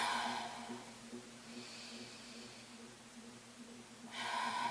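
Slow, steady breathing during a yoga stretch for sore legs, lying on a mat with head and shoulders lifted, a soft continuous airy hush with a faint hum beneath and no talking.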